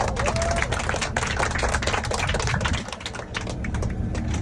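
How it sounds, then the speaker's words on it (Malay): An audience claps and applauds together at a speaking event, producing a dense, continuous patter of hand claps that stays loud throughout before easing slightly near the end. "Tepuk tangan lagi dong yang meriah."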